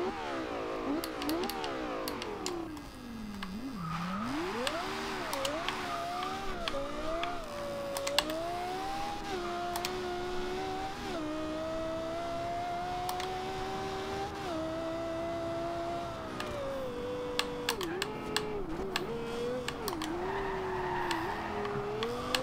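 A 2010 Lexus LFA with a turbocharger in Forza Horizon 2: the engine whines and revs up and down through gear changes, with a sustained rising tone and scattered tire squeals and clicks over a steady rumble.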